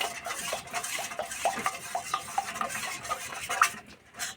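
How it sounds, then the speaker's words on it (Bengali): A spoon stirs rice flour batter with black cumin, turmeric and salt in a bowl, giving steady close scraping and clinking strokes with regular taps against the bowl's side, and no talking. "ভালো করে মিশিয়ে নেব।"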